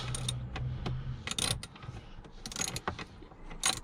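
A ratchet with a 10mm socket tightens a bolt on a 2013 BMW F30 318 during a service, giving quick bursts of close clicking separated by short pauses, with no talk.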